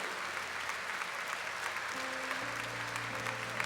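A church congregation at a Catholic service applauds continuously, a dense wash of clapping hands throughout, with a low hum of voices or music underneath.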